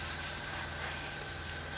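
Continuous airbrush hiss spraying black paint onto a 1/48 Airfix North American P-51D plastic model, a steady close-up spray with a faint compressor hum underneath, alone without talk.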